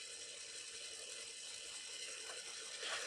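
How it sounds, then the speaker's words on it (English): A small VEX robot motor runs in a rangefinder setup, giving a faint, steady mechanical whir with light ratcheting gear texture and a slight rise at the very end, alone without talk. "You see that our motor is running."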